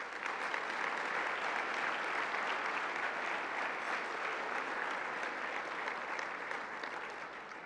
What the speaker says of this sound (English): a nice round of applause to them